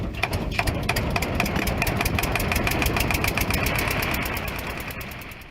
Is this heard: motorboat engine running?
yes